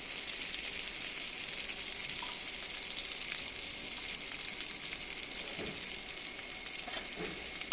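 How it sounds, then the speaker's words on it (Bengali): Diced onions and peeled garlic cloves fry in hot oil in a wok, giving a steady, even sizzle throughout with a few faint stirring clinks near the end and no voices. "এটাকে একটু ভালো করে আমি ভেজে নিচ্ছি।"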